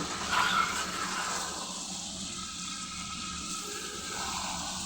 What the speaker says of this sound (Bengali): এই যে সামান্য একটু ঝোল দিয়ে দিলাম